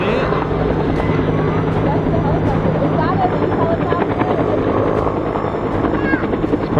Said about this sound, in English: Again, another helicopter.